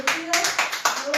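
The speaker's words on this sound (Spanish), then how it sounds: "Un aplauso para todos ellos" Applause for doctors from people on balconies in Spain: a run of clapping that comes in bursts and swells, with a voice talking over it throughout.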